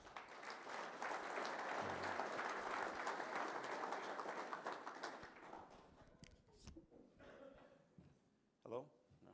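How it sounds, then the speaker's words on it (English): Round of applause from a seated audience at a workplace safety kickoff meeting, sustained and fairly loud for about six seconds before thinning out into scattered claps, shuffling and a few voices near the microphone. "Round of applause for Greg."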